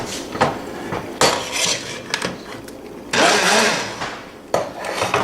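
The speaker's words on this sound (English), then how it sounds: "We're going to use the immersion blender and very quickly give a puree." An immersion blender purees cooked strawberries in a pot, whirring in loud bursts that rise and cut out, with clattering knocks against the pan between runs.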